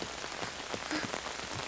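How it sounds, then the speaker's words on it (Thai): Rain beginning to fall in the Bing children's cartoon: a steady, even hiss of pattering drops with a few soft plinks, moderately loud, with no voices. "ฝนเริ่มลงเม็ดแล้ว"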